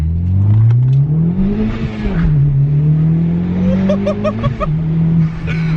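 Turbocharged Honda Civic Type R fitted with an Invidia exhaust pulls hard from inside the cabin, a loud steady engine drone rising and dipping through quick gear shifts, with faint voices under it.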